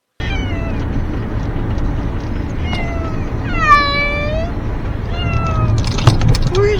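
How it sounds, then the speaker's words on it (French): Cats meow repeatedly inside a moving car, with plaintive, rising and falling cries over a steady low engine and road rumble, and a voice murmurs now and then. "pour que vous puissiez entendre le concerto de chat"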